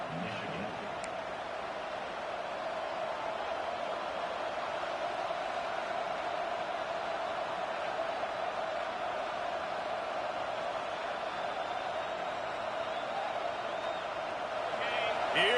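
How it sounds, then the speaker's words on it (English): Steady roar of a home stadium crowd on third down in a football video game, a dense sustained din running loud and even throughout, swelling slightly at the end, with voices mixed in. "Here comes this home crowd as the defense tries to get off the field on third down."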